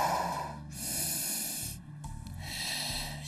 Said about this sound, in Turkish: Nefes al, nefes ver.